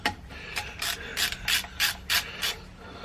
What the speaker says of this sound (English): Basically just a matter of undoing all the bolts